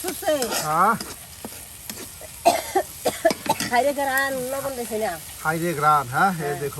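Ground onion, ginger, cumin and garlic spice paste being stir-fried in a pan, with sizzling and stirring scrapes close by, mixed with coughing and a voice talking throughout.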